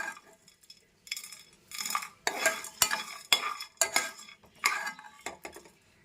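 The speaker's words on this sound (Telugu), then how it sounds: "ద్వారగా వేయించేసుకోవాలి." Masala ingredients dry-roast in a pan while a spoon stirs them in short, uneven bursts of scraping and clinking against the metal, close and fairly quiet.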